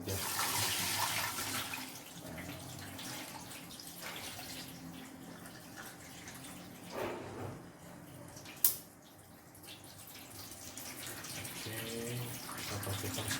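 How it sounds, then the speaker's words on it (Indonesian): Water from soaked rice vermicelli being drained off in a kitchen, a continuous splashing pour that eases and thins out, with a single sharp knock partway through. "Baru kita saring airnya."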